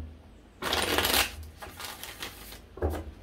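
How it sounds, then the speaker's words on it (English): Tarot cards are riffled and shuffled by hand in a quick papery burst, followed by softer rustling and a second short flurry, close and clear with no voices. "Five shuffles here."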